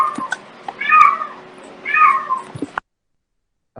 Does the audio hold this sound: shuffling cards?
no